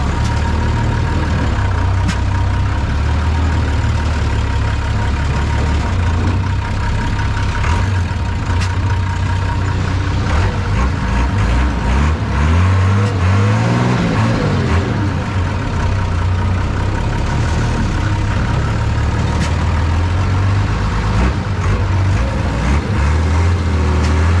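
A monster truck's heavy engine drones loud and steady while the truck climbs rough off-road terrain, its low rumble continuous and close throughout, with slight swells in pitch as the load changes.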